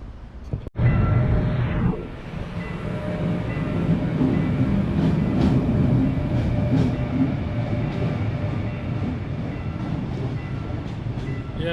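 A low-cost passenger train rolls past close by near Seoul station in South Korea, a steady rumbling roar with faint rail clatter. A sharp click opens the sound, then the noise holds level for the rest of the stretch.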